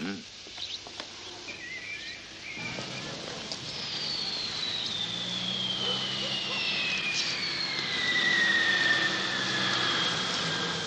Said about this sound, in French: tu n'as pas entendu ce bruit d'avion à réaction